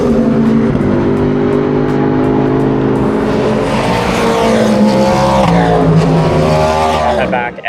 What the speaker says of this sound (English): We've got these cars about to go out on track for their qualifying session.